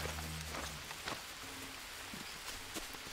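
Steady rain falls in a jungle in the survival video game Green Hell, a dense, even hiss of drops that runs through the whole stretch at a moderate level, with a few faint thumps underneath.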